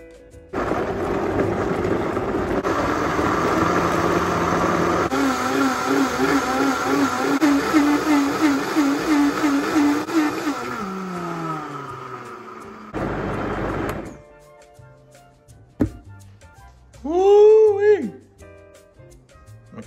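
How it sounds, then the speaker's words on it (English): A Vitamix blender whirs through avocado, olive oil and cilantro for a hot sauce, running loud and steady for about thirteen seconds with a rising pitch, then stopping; a short voice follows near the end. "I'm gonna get ready to marry them all together in the Vitamix"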